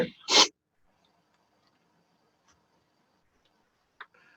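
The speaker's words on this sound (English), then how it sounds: "I'm going to sneeze." A single loud sneeze bursts out at the very start, close and sharp, then the room falls nearly silent apart from a faint click near the end.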